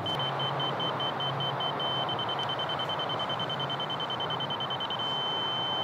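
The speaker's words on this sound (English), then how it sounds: "When you have a solid beep, you're at the height of the laser" A STABILA LAR350 laser level receiver beeps in short rapid pulses that merge into one steady, continuous tone, heard over loud steady outdoor background noise.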